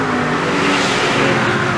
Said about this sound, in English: So it's a quad cam Toyota V8,